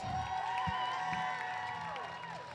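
A crowd at a FIRST Tech Challenge robotics qualifier cheers for alliance teams in a dense wash of shouting, whooping and whistling, with scattered claps. The roar stays loud and continuous, and an announcer's voice blends into it.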